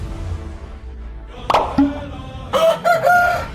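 A rooster on a farm gives a short crow and clucks close by, with a few sharp bursts and a louder, harsher run of calls near the end.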